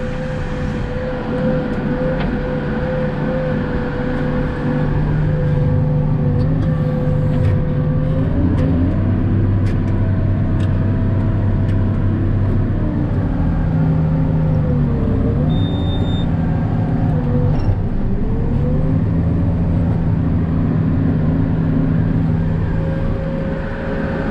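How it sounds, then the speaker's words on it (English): A four-wheeler ATV driving on a farm, its engine a steady, loud, close drone that rises and falls with throttle changes throughout, with no talking. "Jump on the four-wheeler and run up and grab that."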